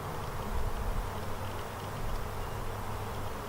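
Honeybees in an open beehive, mid-inspection as frames are lifted one by one, hum in a steady, dense buzzing drone that stays close and constant throughout, with no talking.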